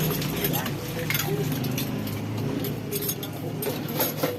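Metal frying pan and cooking pots being washed, giving a steady run of close clanks, scrapes and jangling rattles against a busy kitchen background.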